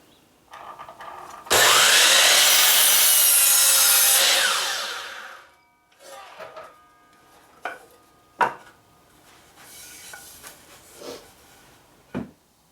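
A power saw rips through a 2x4 wood board in one loud burst of about three seconds, followed by quieter clunks and knocks as the cut pieces are handled.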